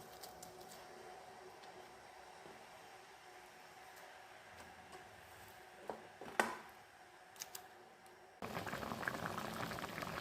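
A grated carrot and chopped date mixture for a cake boils in a pan, with steady soft bubbling, a few sharper pops near the end, and then louder, denser bubbling as it thickens.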